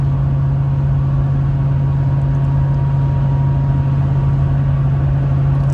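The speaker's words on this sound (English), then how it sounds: "You hear the tires much more than you hear the exhaust." Tires roar steadily on the road from inside a moving RAM 1500 Hemi 5.7L pickup with Nitto tires, a constant loud drone with a low hum and no voices.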